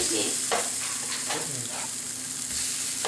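Northern pike fish patties fry in a pan with a constant close sizzle, broken by a few scraping stirs and turns of a utensil.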